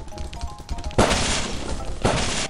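Two sharp gunshots go off in the video game Lethal Company, loud and close, each a sudden broadband blast at about one second and two seconds, with a lingering rumble after each and faint game ambience before.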